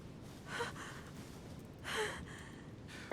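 A woman in The Council video game breathes heavily, two audible gasping breaths about a second and a half apart, fairly quiet and close with no speech.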